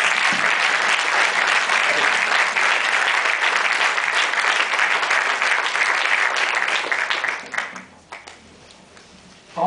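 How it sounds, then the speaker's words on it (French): A ceremony audience at Paris city hall gives a long, dense round of applause that holds steady for several seconds, then tapers off into scattered claps and quiet. "je voulais que vous applaudissiez bien fort à Liska"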